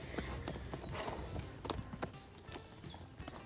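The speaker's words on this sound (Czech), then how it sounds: "tady Luso je výborný točící kůň totiž" Hooves of a horse clip-clopping at a walk at a stable, a few uneven nearby hoof strikes with some chirpy background noise.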